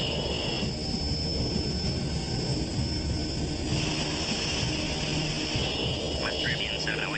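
A West Caribbean Airways airliner's jet engines roar steadily at takeoff, loud and continuous with a high whine on top, heard from close by.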